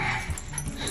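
A dog whimpers and yips at close range in a house turned temporary kennel, with a few short whiny cries across a steady room background.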